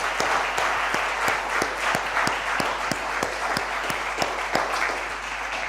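A church congregation applauds during a sermon on leadership, with steady, dense clapping filling the room for several seconds and a few sharp individual claps standing out close by.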